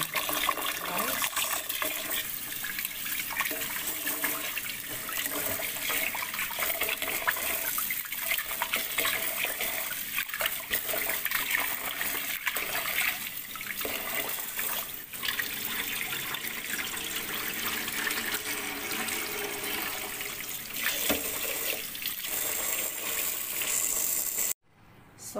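Rice being washed in a pot under a running tap, a steady broadband rush of flowing water with faint sloshing throughout, close and continuous until an abrupt stop at the very end.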